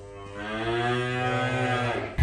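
A single long, drawn-out moo from a cow on a sheep farm, steady and fairly close, lasting about two seconds with no talking.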